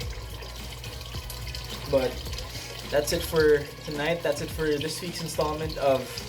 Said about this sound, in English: you guys can probably hear the sound of trickling water in the background